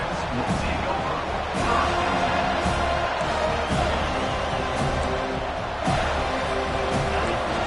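Football stadium crowd at a college game roars continuously, a dense, loud wall of cheering with brief swells, while a commentator talks over it.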